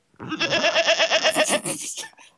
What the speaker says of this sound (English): You get a billy goat.